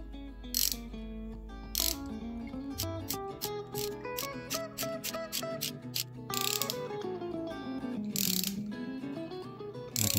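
A Time-Sert tool is turned to expand a thread insert in a stripped spark plug hole, giving steady ratcheting clicks mixed with rising and falling metallic squeals throughout.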